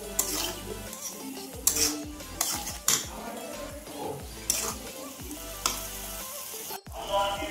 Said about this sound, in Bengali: এখন আমি ভালো করে নেড়ে চেড়ে কষিয়ে নেব।